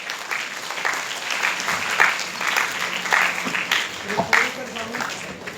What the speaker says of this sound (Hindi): इसलिए ताली बजाते रहो तुम लोग